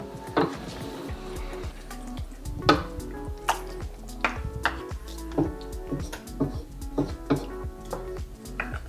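Beef caldereta with tomato sauce and a beef cube being stirred in a pot, a run of irregular knocks and scrapes of a spoon against metal over a faint sizzle, close up.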